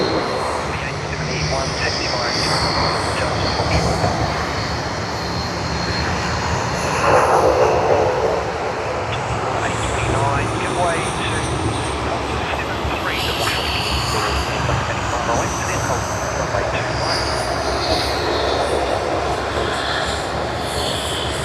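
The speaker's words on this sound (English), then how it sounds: "Let us try capturing the aircraft on the other side now." Aircraft engines roaring steadily at Sydney Airport, a continuous loud broadband drone swelling slightly near the middle, with a voice talking over it.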